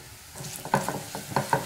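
Chopped onion, tomato paste and Kashmiri chili powder sauté in a pan for tomato rice, with a soft frying sizzle broken by a few sharp scraping strokes of the stirring spoon.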